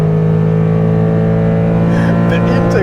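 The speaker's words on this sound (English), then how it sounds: "The intake noise is unbelievable." A BMW M3 engine roars loud and close from inside the cabin, a sustained intake drone climbing in pitch as the car accelerates, with no talk over it.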